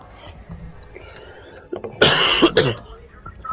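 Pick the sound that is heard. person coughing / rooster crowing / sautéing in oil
person coughing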